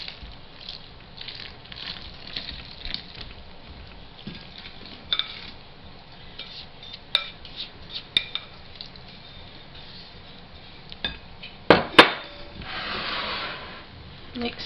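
Wet and dry ingredients for Boston brown bread with raisins are stirred together in a bowl, giving soft squishing, scraping and occasional clinks of utensil on bowl, fairly close, with a brief louder clatter partway through.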